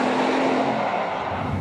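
A Bugatti Veyron supercar drives fast along a private road, its engine a loud, sustained roar that sweeps past close by and eases slightly toward the end.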